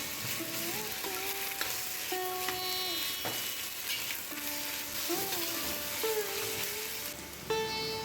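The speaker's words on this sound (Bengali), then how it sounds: "এবার মটনটাকে ভালো করে পেঁয়াজ রসুন দিয়ে আমরা কষাবো।" Mutton sautéing in a pan with onion and garlic, a steady loud sizzle with occasional stirring scrapes, while faint tonal music runs underneath.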